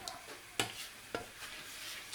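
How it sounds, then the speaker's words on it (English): Coconut being stirred in a mixing bowl while baking a chocolate treat, giving quiet, soft scraping with a few brief sharp clinks against the bowl. "we are going to mix the coconut."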